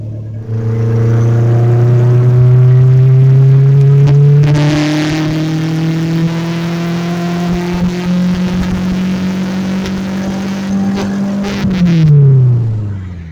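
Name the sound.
repaired turbocharged car engine running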